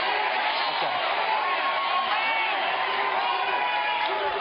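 A crowd at a campaign-style political event with a presidential candidate answering a question about border security; dense, continuous crowd noise with shouts and cheering, loud and sustained throughout, voices mingling without clear speech.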